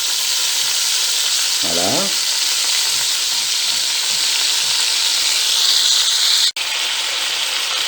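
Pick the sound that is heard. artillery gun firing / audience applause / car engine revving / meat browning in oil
meat browning in oil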